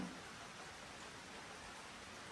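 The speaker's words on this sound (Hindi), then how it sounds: "कुछ इस तरह से रहा मेरा आज का दिन और अभी बारिश हो रही है।" Rain falls at night in a steady, even hiss of drops that stays constant throughout, moderately loud and with no talking.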